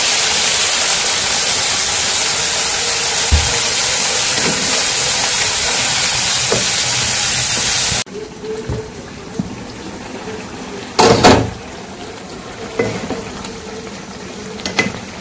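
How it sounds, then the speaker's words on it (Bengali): Water poured into a pan of cooking vegetables while making a traditional fish curry: a loud, steady rushing hiss for several seconds, then a sudden drop to quieter simmering with a few brief clatters. "আমি জল দিয়ে দিই।"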